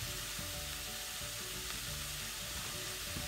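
Butter gently stirred into a sauce in a hot pan, a steady close sizzle and bubbling hiss with faint scraping of the stir, no voices.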